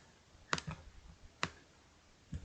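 Mouse button clicks on a computer while using sensing and variable blocks, three faint, sharp clicks spaced about a second apart over a quiet background.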